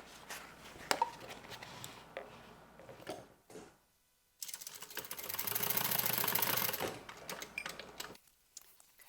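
A sewing machine stitches the corners of a tote bag, running in a steady mechanical burst for a few seconds, with scattered handling clicks and fabric rustle before and after, close by and without speech.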